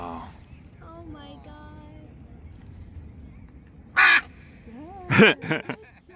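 A crow-like bird calls with harsh caws, a few quieter calls first, then two loud close bursts and a cluster of rapid caws near the end, with faint voices in the background.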